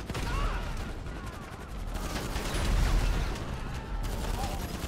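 Gunfire in GTA 5 rattles continuously at the player, a dense, loud barrage of overlapping shots with mechanical clatter and no pauses.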